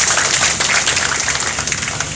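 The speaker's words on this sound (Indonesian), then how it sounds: "Kita tepuk tangan dulu untuk para aliansi." A crowd at a peaceful street protest claps for the allied groups. The clapping is loud, dense and continuous, with no pauses, across a short burst.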